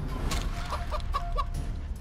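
A chicken in the Divinity: Original Sin 2 video game gives a run of four or five short, bright clucks spaced evenly over a steady low background hum.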